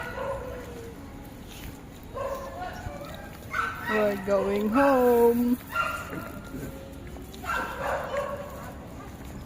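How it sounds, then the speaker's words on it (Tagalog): Dogs, including poodles, bark and yip intermittently on a morning walk, with a cluster of higher, whiny yelps midway, mixed in under people talking close by. "Dami kasing aso dun eh. Mga poodle."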